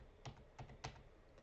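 ASMR typing on an external computer keyboard with heavy-feeling keys, three soft, close keystrokes spaced evenly apart in a quiet room.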